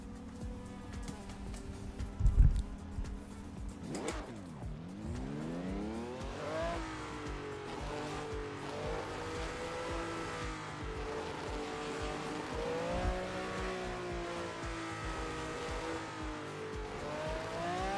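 Race cars in the iRacing sim video game, including an SR8 or SR10, whine with revving engines that climb and drop through gear shifts, with a brief tire squeal early on, steady and moderately loud.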